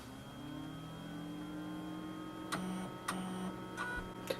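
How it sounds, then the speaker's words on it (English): Brother HL-L2390DW laser printer powering up, a steady low motor hum with faint whine, then several short mechanical clicks and whirring bursts as the mechanism initializes, close and clear without speech. "Now we have to switch on the printer"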